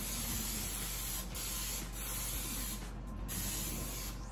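Cooking spray hissing into a bundt mold in a steady, close, continuous spray with brief pauses between bursts, heard alone.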